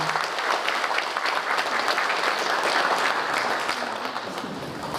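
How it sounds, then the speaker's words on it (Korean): Sustained applause from a crowd at a Korean Patriotic Martyrs' Day memorial ceremony, dense and steady, tapering slightly toward the end. "큰 박수 부탁드립니다"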